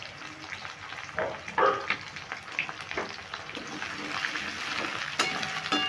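Capsicum, grated ginger and chopped green chillies fry in a pan for chili paneer, a steady close sizzle with brief scraping stirs and clatters throughout.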